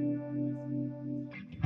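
Electric guitar played through a phaser pedal on a pedalboard, a sustained chord with a slow sweeping swirl, close and loud, ending in a brief burst of picked notes.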